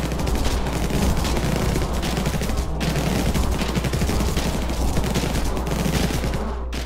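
Sustained machine gun fire from the top-down strategy shooter Infested Planet, a dense unbroken rattle of rapid shots at steady loudness with one brief dip midway, and no talk over it.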